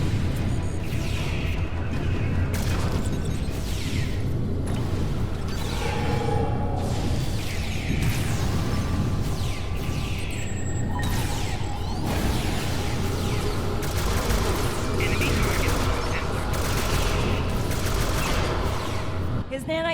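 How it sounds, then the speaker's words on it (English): Video game gunfire aimed at a king, dense rapid bursts of shots and mechanical clatter sustained loudly throughout, layered with whooshes and battle effects under intermittent voices. "Target the king and fire."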